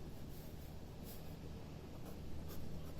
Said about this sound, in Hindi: तो हम इसका आंसर लिखेंगे